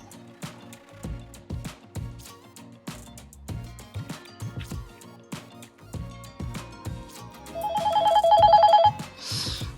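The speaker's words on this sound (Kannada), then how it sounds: "ನಮ್ ಫಾರಿನ್ ಫ್ರೆಂಡ್ ಫೋನ್ ಮಾಡ್ತಾವ್ರೆ." A phone rings with an incoming call, a short burst of electronic ringing near the end that rises over busy rhythmic background sound, with no talk.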